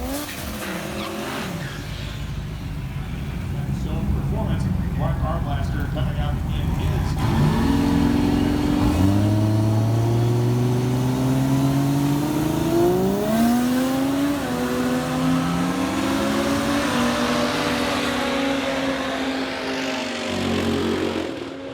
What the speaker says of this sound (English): First race of the day is 2 Aussie cars.